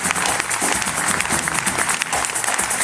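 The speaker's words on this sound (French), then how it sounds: "je voudrais que vous applaudissiez bien, bien fort" A large audience applauds loudly and steadily at a live song-and-dance show in Saint-Rémy-de-Provence, with dense, sustained clapping throughout and no voices.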